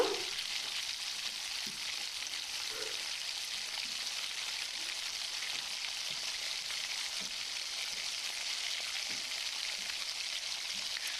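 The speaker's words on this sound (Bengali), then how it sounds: "আমি এরপর এতে দিয়ে দিচ্ছি গ্রেট করে রাখা আলুগুলো আলুগুলোকে দিয়েও আমি এই সব কিছুর সঙ্গে ভালোভাবে নাড়িয়ে চাড়িয়ে একটু মিশিয়ে নেব" Grated raw potatoes frying in a pan with other ingredients as they are stirred and mixed, giving a steady, even sizzle with faint occasional scrapes, heard close with no talking.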